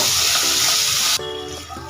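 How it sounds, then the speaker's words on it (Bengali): Tomatoes with garlic cloves and a pinch of salt fry in a pan, a loud, steady sizzle and hiss that drops to a quieter crackle partway through, close up with no talking. "দু তিনটে রসুনের কোয়া টমেটোটা যাতে তাড়াতাড়ি সফট হয়ে যায় তার জন্য দিয়ে দিলাম সামান্য পরিমাণে লবণ দু থেকে তিন মিনিট ভেজে নেব"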